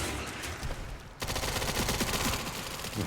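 Rapid gunfire rattles in the game Resident Evil 9, a dense burst of shots that stops for a split second, then resumes as a sustained, loud volley through the rest.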